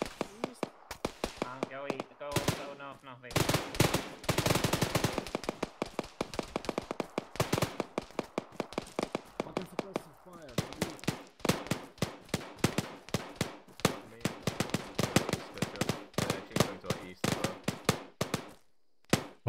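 Repeated rapid gunfire in the military shooter Arma 3, sharp close bursts and single shots cracking throughout a twenty-second firefight, with some bursts louder and denser than others, while voices talk over the shooting at times.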